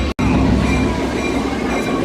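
The first train placed on the tracks at Stone Mountain Park, a loud, steady rolling rumble of rail cars heard close, with a brief cut at the start.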